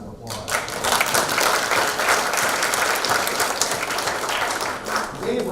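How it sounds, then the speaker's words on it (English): An audience at a China-US policy panel discussion in Washington, D.C. bursts into sustained applause after a guest is introduced, a broad, steady roar of clapping that fades slightly toward the end. "give him a round of applause"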